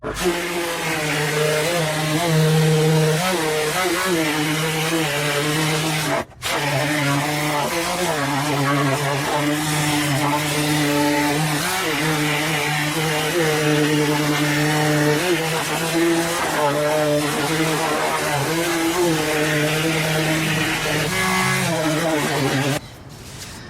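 Power sander working body filler on a 1974 VW Super Beetle during no-weld rust repair, a loud steady whine running nearly nonstop with one brief cut, and a voice talking over it.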